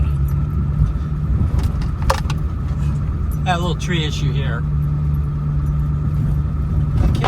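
A Ford F-250 pickup truck rolls slowly along a wooded trail with a low, steady engine drone. Someone talks briefly over it, and a few sharp scrapes and rustles of branches brushing the truck stand out.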